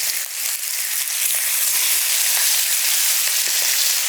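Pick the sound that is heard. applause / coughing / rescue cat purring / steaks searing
steaks searing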